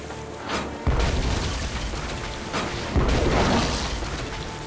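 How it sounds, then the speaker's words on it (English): Cannon fire in the pirate adventure game Tales of Monkey Island: two heavy, deep booms about two seconds apart, each followed by a rumbling tail over continuous in-game background sound. "Then empty the cannons on him, me hearties!"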